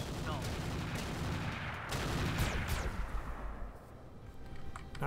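A mech in the RogueTech mod of BattleTech unleashes a full weapons volley, a thick barrage of overlapping shots and impacts that swells then fades slightly, with faint voices underneath.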